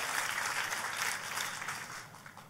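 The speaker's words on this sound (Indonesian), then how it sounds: "Boleh sekali lagi kasih tepuk tangan yang paling meriah?" Applause from a church congregation during a Christian sermon, steady broadband clapping from many hands that holds for the whole stretch, fairly faint and distant, tapering slightly at the end.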